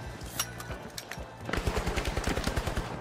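Rapid gunfire in the video game The Finals, shots coming from a rooftop: a few scattered cracks, then a dense burst of automatic fire, loud and close, with no talking.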